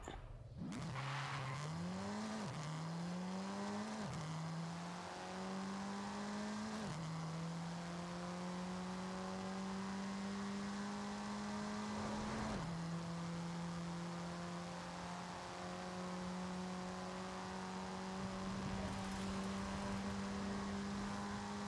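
A street racing car in the Forza Horizon 5 Hilltop Descent event, engine revving up through several quick gear shifts then holding a steady loud drone, with brief dips and tire noise, no voices.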